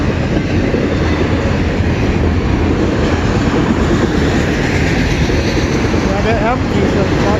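CN E275 westbound freight train passing close by in Port Huron, Michigan. A loud, steady rumble and roar of rolling cars continues throughout, with a clickety-clack of wheels over the rails.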